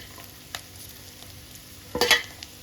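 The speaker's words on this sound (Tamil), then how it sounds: "வெங்காயம் பச்சை மிளகாலாம் நல்லா வதங்கிட்டப்புறம் இந்த ராய் வேக வச்சு வச்சுருமேல அதை போட்டுக்கலாம்" Cooked ragi is stirred into onions and green chillies sautéing in a pan, with a faint low sizzle and soft scraping stirs, ending in a brief louder burst of clattering and frying.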